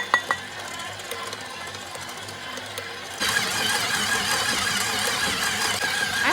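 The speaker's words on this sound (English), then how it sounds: "KitchenAid mixer that my mom got before I was born, and so it's an avocado green one." A 1960s avocado green KitchenAid stand mixer runs with a steady mechanical whir, starting quiet and jumping louder partway through as it kneads dinner roll dough, with no talk.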